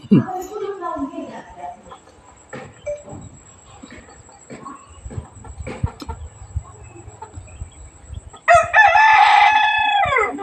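Chickens cluck and chatter close by while a person talks, then a rooster crows loudly near the end.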